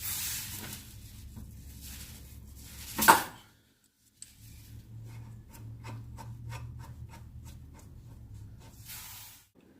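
An adjustable wrench breaks loose a tie rod nut on a car's front end during a home alignment: steady rasping and rubbing scrapes, a sharp crack near the middle, a brief silence, then more scraping.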